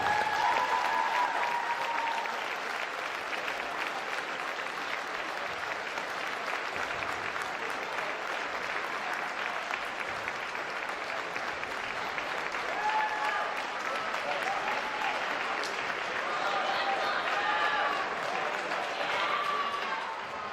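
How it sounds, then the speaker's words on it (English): A basketball crowd applauds steadily for the seniors in a school gym before a high school boys game, sustained broadband clapping with a faint murmur of voices throughout. "Fans, let's give our seniors a great round of applause."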